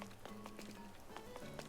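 Rain falling in Animal Crossing, a soft steady patter with faint droplet ticks and short bright game blips sounding over a low continuous musical hum.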